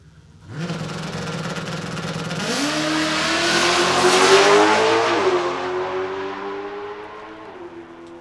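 A drag racing car launches and accelerates hard down the strip, its engine roaring loud and rising in pitch with a brief shift, the sound swelling then trailing off into the distance.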